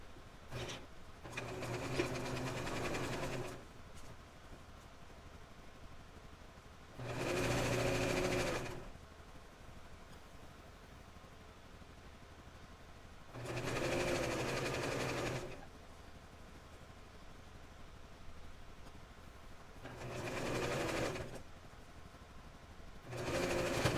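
A sewing machine stitches an 18-inch doll nightgown in four bursts of steady whirring, each a couple of seconds long, separated by quiet pauses, close and fairly soft with no talking.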